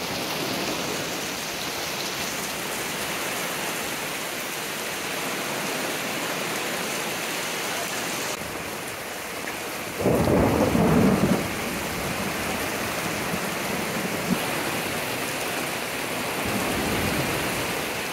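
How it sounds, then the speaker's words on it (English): A massive thunderstorm pours heavy rain over a lake state park campground, a dense steady hiss of downpour with one loud, brief crack of thunder midway. "So we're so thankful for this massive thunderstorm."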